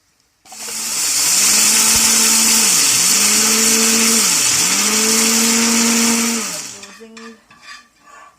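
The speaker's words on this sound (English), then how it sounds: "here we're just blending the black pepper for seasoning" A loud electric blender grinds black pepper for about six seconds. Its motor whines steadily and dips briefly as it pulses, then spins down with rattling at the end.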